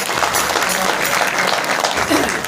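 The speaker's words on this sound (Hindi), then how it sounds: "उसके लिए जोरदार तालियां।" An audience at a village satsang for Guru Ravidas applauds a donor, a dense, steady burst of close clapping throughout.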